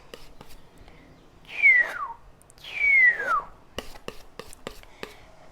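A person whistles two gliding notes that slide downward, with soft clicks and breathy noises around them.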